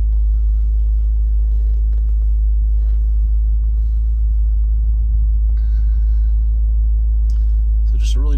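A 2019 BMW M5 Competition idles through its sport exhaust with a heavy, deep rumble that is loud, close and steady throughout, with light mechanical ticks on top.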